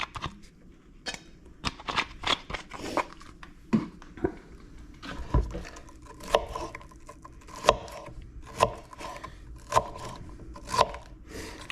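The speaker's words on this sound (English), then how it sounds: "I don't worry about chopping the stuff up finely or different." Bell pepper, celery and onions are chopped for meatloaf on a board, making sharp knife taps that begin irregularly and settle into a steady rhythm of distinct chops, close and fairly quiet, with no talking.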